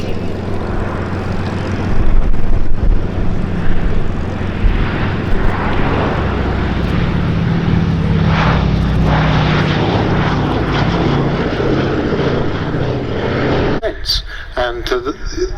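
Sally B, a B-17 bomber, drones through a flying display at the Duxford summer air show, its piston engines and propellers holding a loud, steady roar. A voice talks over it, and the sound breaks up abruptly near the end.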